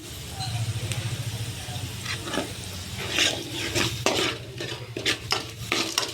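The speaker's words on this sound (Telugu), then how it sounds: "ఆవాలు, జీలకర్ర, చిన్నెల్లిపాయలు, ఉల్లిపాయ, ఎండుమిర్చి, కరివేపాకు అన్నీ వేసి తాలింపు వేస్తున్నానండి నేను" Mustard seeds, cumin, shallots, onion, dried red chillies and curry leaves tempering in hot oil for palak dal, with a steady sizzle, stirring and clinks of a spoon against the pan.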